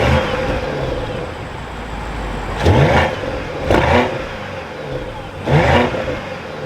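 A 2023 BMW 760i xDrive engine starting, with a steady hum and three brief swells in revving a few seconds apart, fairly loud and close, with no talking.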